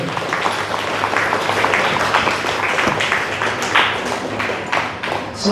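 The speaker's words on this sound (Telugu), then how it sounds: "సాయి సచరిత్ర చప్పట్లు కొట్టండి ఒకసారి" Audience applause at the 72nd anniversary celebration of the Sai Satcharitra at a Sai Darbar gathering, a steady crowd clapping that holds for several seconds with no speech over it.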